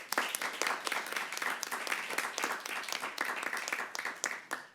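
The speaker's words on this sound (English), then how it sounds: "Ladies and gentlemen, please a round of applause for our moderator and judges" Audience applause for the moderator and judges at a high school debate semifinal, a steady wash of many hands clapping throughout at moderate volume, with no talk over it.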